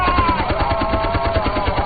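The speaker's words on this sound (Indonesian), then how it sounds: "Michael pun segera meminta Korsa dan Sokolov untuk menembaki pesawat Kolya" Machine guns fire at an aircraft during a war-film dogfight. Rapid, evenly spaced shots pound continuously in a loud burst over a droning engine.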